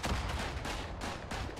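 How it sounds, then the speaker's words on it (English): Mortar and artillery fire rumble through a Verdun battlefield video game as a dense run of booming blasts with about four heavier bursts rolling together. "There's a lot of explosions going on."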